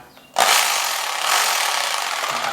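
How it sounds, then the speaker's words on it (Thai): A loud rotary hammer drill with a diamond bit kicks in after a brief quiet moment and runs steadily in hammer mode with a harsh, grinding buzz, close by and alone, drilling tile. "สว่านโรตารี่จะดังแบบนี้นะครับ หมดเจาะกระแทกนะครับ"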